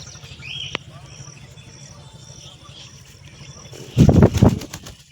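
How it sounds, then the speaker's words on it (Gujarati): Pigeons that have just bathed shake themselves dry, giving a quiet stretch of faint chirps and ambient hum and then a close burst of loud, rapid wing flapping near the end. "બધા કબૂતર નાઈને સુકાય છે"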